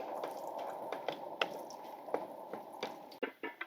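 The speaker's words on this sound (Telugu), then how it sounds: "కొంచెం నూనె పోసుకొని ఎండుమిరపకాయలు వేపుకుందాం." Dried red chillies frying in a little oil in a pan for Andhra-style kandi podi, a faint soft sizzle with scattered small pops and crackles.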